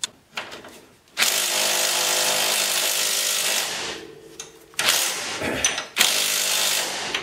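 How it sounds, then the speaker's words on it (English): A power wrench buzzes in long loud runs as two bolts are removed from the ball joint fork of a 2009 Polaris Ranger 700 XP, with short pauses and clanks between bursts, close up. "So I'll take these two bolts off now, and then this bottom fork should come apart."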